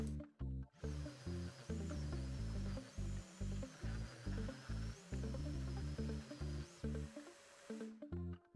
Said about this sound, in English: this is why most woodworkers don't like sanding so much